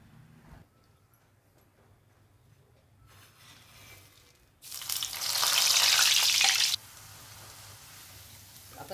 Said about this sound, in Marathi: आता आपण हे शेंगदाणे सुद्धा तळून घेऊ।